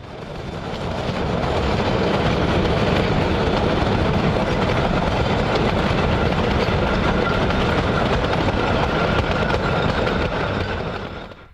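A Rio Grande K-36 steam-hauled freight train rolls through a narrow river gorge, a loud, continuous rumble of wagons and wheels that swells in, holds steady and eases off near the end.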